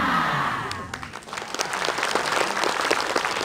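An audience at an Islamic religious talk show bursts into sustained applause, a dense wash of clapping that dips briefly and then swells again, filling the hall with no voice above it.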